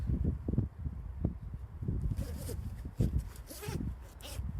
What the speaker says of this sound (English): These bloody zips.